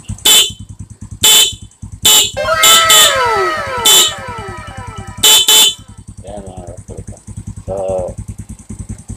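Motorcycle horn, wired with a passing-light negative trigger, honks in a series of short, loud bursts of uneven spacing over a steadily thumping idling engine, with a brief voice-like sound near the end.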